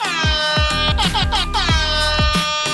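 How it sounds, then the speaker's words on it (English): Loud air horns blare in rapid succession, with repeated rising honks that overlap one another throughout. "Can you play us out with some air horns?"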